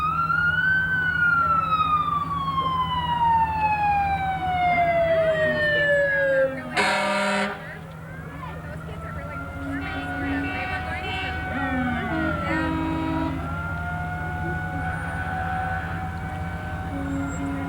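A Calumet City Fire Department aerial tower truck sounds its wailing siren in a 1995 town parade, loud and close, with a blast of air horn midway and a lower siren wail continuing after it.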